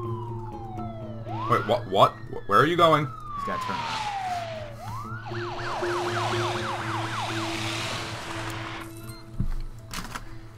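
Wailing ambulance siren in the SimCity video game, a long sweeping rise-and-fall tone followed by a faster yelping cycle, loud and continuous over the game's background music while a player talks over it.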